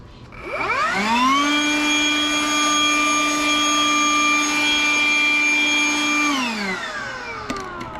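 A Ryobi 18V jet fan blower spins up with a rising whine, holds a loud steady high-pitched roar for several seconds, then winds down, close and alone.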